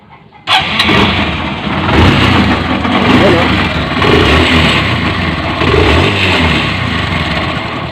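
A Honda CB125 motorcycle with an abnormal scraping noise fires up after a brief pause, then runs loud and rough at a steady idle with an uneven, churning texture throughout.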